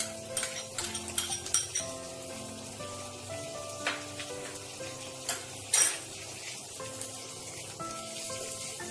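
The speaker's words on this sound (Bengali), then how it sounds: "এবার আমি এর মধ্যে দেবো এই পেঁয়াজ, আদা, রসুন আর কাঁচা লঙ্কা একসাথে পেস্ট।" A paste of onion, ginger, garlic and green chilli goes into a pan, with repeated metallic clinks and scrapes of a spoon against the pan over a faint sizzle.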